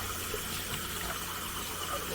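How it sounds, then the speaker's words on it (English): Water spray rinsing chalkboard spray paint off laser-engraved glassware, a steady close hiss of pressurized water running without pause, with no voices. "it'll come off with just water pressure too"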